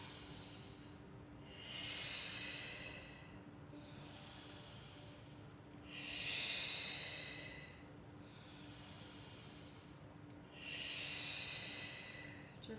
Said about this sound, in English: just breathing like this